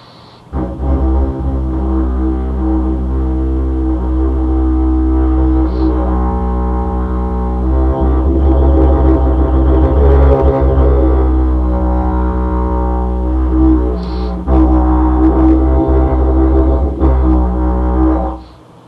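A loud, continuous didgeridoo drone with shifting overtones and occasional squawking vocal bursts that mimic a kookaburra's laughing call.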